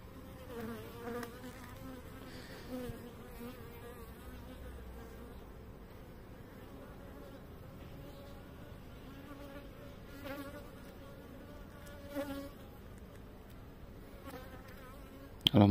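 Honey bees buzz steadily around an open hive colony of a small split, a dense continuous drone close by with a few louder swells as bees pass near, and no talk.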